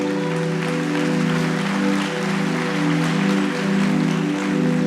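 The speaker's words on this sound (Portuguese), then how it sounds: "Dê uma salva de palmas e diga aleluia" A church congregation claps together in a dense, continuous wash of applause that holds at a steady level, close and full, with no voices standing out.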